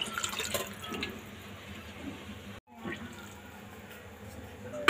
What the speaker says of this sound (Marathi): तुम्हाला लागेल तसं तुम्ही आता ह्याच्यामध्ये पाणी टाकू शकता.